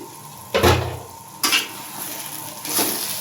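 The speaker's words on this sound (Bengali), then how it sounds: "ঢাকনিটি এখন আমি তুলে নিলাম।" A lid is lifted off a cooking pot of muri ghonto with fried fish heads and bones, giving three brief metallic clanks and scrapes with soft sizzling in between.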